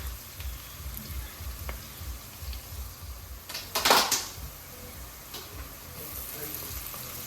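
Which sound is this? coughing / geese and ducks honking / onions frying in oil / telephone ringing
onions frying in oil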